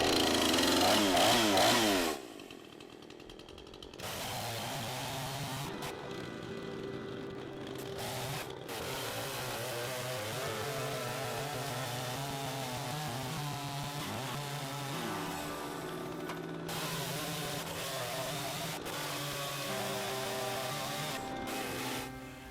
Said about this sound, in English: I just attacked it off the rip with the chainsaw, trying to take out these triangular sections to form the legs